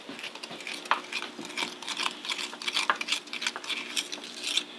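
A spoon stirs powdered erythritol sweetener into icing in a bowl, giving soft, continuous scraping and light clinking pattering close by for a few seconds, with no voices.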